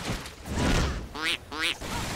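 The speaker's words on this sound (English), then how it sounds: "I heard a quack." Two short cartoonish duck quacks from the video game Vindictus, each a bright nasal burst, spaced about half a second apart, following a soft low rumble of in-game background noise.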